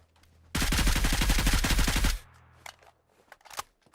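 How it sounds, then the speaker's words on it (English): A rapid burst of automatic gunfire in PUBG, about twenty closely spaced loud shots over a second and a half, followed by a few fainter distant shots. "Still hearing gunshots coming from over here, though."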